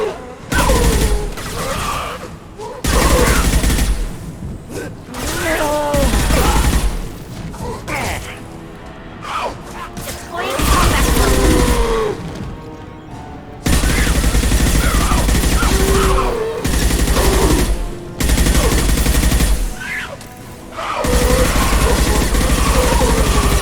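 Gunfire in the sci-fi shooter Mass Effect 2, heard as loud, dense bursts of automatic fire with mechanical clanks that come in repeated waves separated by brief lulls.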